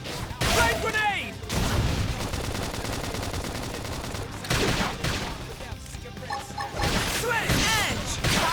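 A flame grenade explodes during combat in Xenoblade Chronicles X Definitive Edition, with several loud, crackling bursts and impacts in quick succession and voices shouting over the battle.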